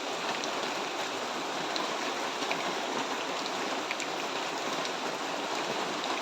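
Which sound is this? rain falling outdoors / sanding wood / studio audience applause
rain falling outdoors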